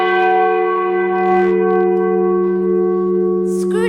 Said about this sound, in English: Scrooge awoke to the chimes of the neighboring church as it struck the hour